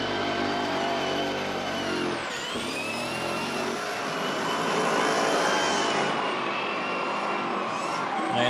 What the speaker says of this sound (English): we hear the supercharger whining, the classic whining noise of the supercharger